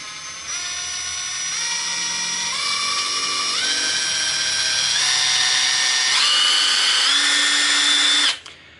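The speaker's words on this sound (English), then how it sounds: "Let's just see all the different variable speed settings you get." A Ferrex 20V cordless impact driver motor whines in rising steps through about eight variable speed settings, each higher in pitch than the last, then stops abruptly.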